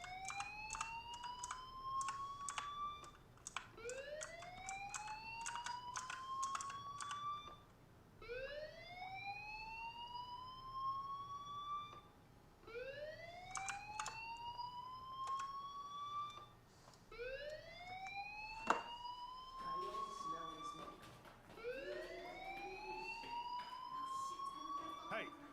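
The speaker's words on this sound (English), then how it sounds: "do you hear that fire alarm?" A rising electronic fire alarm whoops repeatedly in even cycles in the video game Life is Strange, sweeping upward in pitch again and again against quiet background noise.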